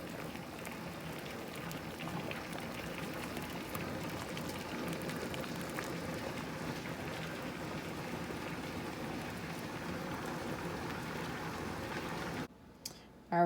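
Quart jars of pickled cucumbers sit in a boiling water bath, the pot giving a continuous bubbling, popping rumble with light clicks before a sudden stop near the end.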